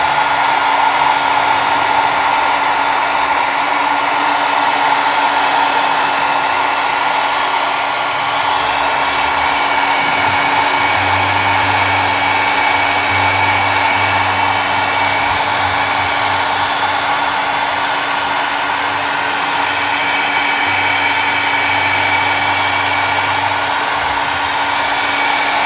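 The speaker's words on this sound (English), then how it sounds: "Now we're going to take our heat gun and we're going to heat" A heat gun blows steadily on foundry wax in a mixed media craft setting, a continuous broadband hot-air roar holding close and loud throughout with no talking.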